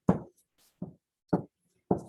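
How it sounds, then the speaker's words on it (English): Four sharp, evenly spaced thumps as glue is pressed aggressively onto a sheet of paper while making a handmade book cover, close and alone in a quiet room. "that sound is just me aggressively putting glue on this piece of paper"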